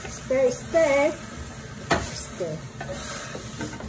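Ingredients including water spinach are stirred in a cooking pan, with a close sizzle, a sharp clack of the utensil near the middle and scraping strokes, and voices talking briefly over the start.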